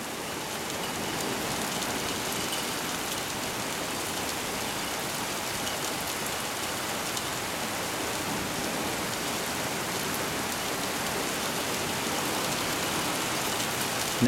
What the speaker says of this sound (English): we'll get heavier rain.